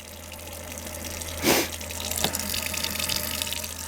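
Water running steadily from an RV faucet, a constant splashing hiss with a low pump hum underneath and a brief louder gush partway through.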